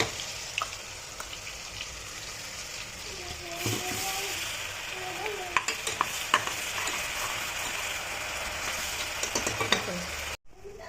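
Chopped onion sizzles and fries in hot oil with steady stirring and occasional scraping clicks, a continuous close hiss throughout as jackfruit biryani is prepared, with faint voices in the background.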